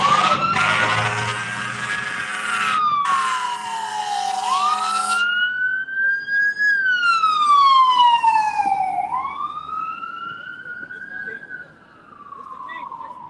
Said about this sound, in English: You got fucking sirens and all type of noises and shit.